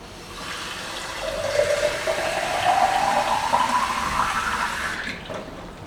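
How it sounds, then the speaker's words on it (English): Water pours steadily into a glass plant jar after a rooted plant is set back in, a rising filling tone lasting about four seconds and then stopping, close and fairly loud, with no talking. "I just put my plant back in and fill it up with water again."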